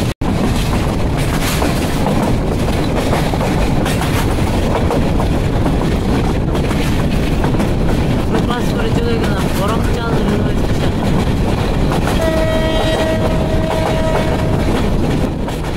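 The Parabat Express rolls from Sylhet toward Dhaka in a loud, unbroken rumble of wheels on rail, steady clatter filling the whole stretch, with a brief high whine near the end.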